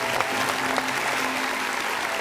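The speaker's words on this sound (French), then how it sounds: "On va applaudir encore très fort, s'il vous plaît, pour le grand John Kiffy" Loud, steady applause from a live audience for comedian John Kiffy, continuous dense clapping throughout with a faint voice underneath.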